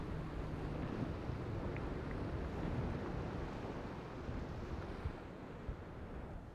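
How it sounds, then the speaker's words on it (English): Steady breeze and wind noise rushing over open water during a 49erFX sailing race final off Palma, a continuous broadband roar with faint water wash, no talk. "The breeze has just picked up a little bit here."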